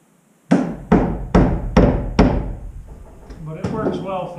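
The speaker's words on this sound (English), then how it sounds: "So I just pop a few roofing nails in it to hold it." Roofing nails are driven into wood with five evenly spaced, loud hammer blows, each ringing briefly, followed by a few lighter taps and some clatter nearby.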